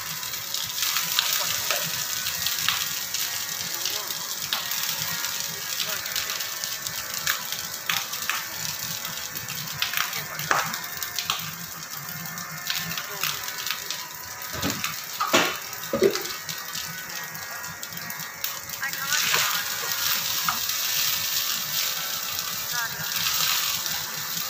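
Jeera rice being stir-fried in a pan for a home-style meal alongside honey chilli chicken, a steady close sizzle and fry hiss with a few scraping clinks of a spatula against the pan.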